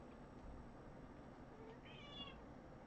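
A cat meows for dinner, a single short meow heard faintly over a steady background hum, with no talking.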